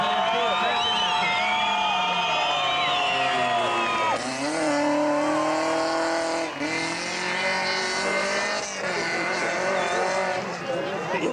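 A front-wheel-drive rally car races a Kuldīga rallysprint stage in 2000, its engine screaming through rising and falling gear changes with occasional tire squeal while a commentator talks over it.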